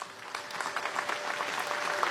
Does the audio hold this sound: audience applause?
yes